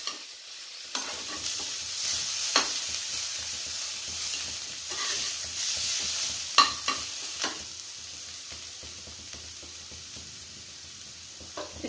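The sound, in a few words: onions frying and being stirred in a pan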